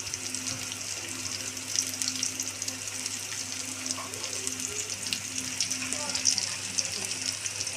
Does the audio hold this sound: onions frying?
yes